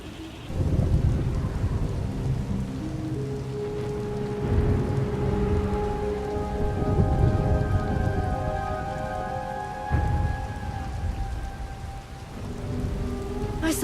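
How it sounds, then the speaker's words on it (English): Steady heavy rain pours down with rolling thunder and low rumbles in a stormy scene from the video game Star Wars: The Old Republic, while sustained musical tones build in the background without speech. "Hard to track them through the storm. Rain's wiped out the trail."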